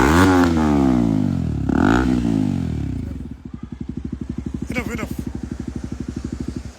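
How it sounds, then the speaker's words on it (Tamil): A KTM motorcycle fitted with an aftermarket exhaust revs loudly up and down at close range, then settles into a fast, even, popping idle burble. "Give exhaust note."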